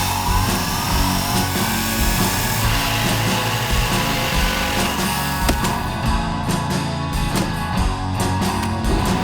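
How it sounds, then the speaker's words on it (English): A Henx 40-volt cordless chainsaw with automatic oiling cuts through heavy wood, a loud, dense, continuous motor drone with grinding cutting texture throughout, no speech over it. "Hank's 40-volt chainsaw with gas-like power and automatic oiling system gets those heavy"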